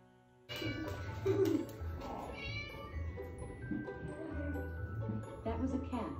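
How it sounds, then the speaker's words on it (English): A cat meows several times up close, with other voices and background chatter around it. "That was a cat."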